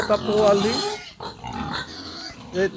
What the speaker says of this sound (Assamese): এইবিলাক গাহৰি।